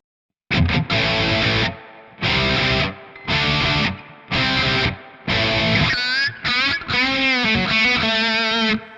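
A heavily distorted electric guitar with a Mesa Dual Rectifier tone plays repeated loud strummed bursts with short gaps, then sustained notes bend and trail off in echoing delay and reverb.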